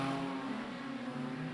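Race cars in a super street race at Gympie Speedway drone steadily, a continuous engine hum that stays constant through the short moment without clear passes or revving.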